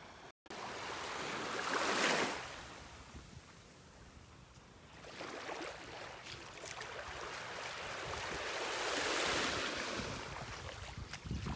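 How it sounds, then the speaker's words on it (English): Ocean waves wash ashore on a beach in North Naples, Florida, two broad surges of surf swelling and receding with steady wind noise on the microphone. "The water is really rippling out there this morning."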